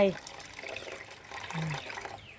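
Tamarind water splashes and trickles as it is poured into a seasoning mixture, a soft liquid gush heard beneath a woman's speech.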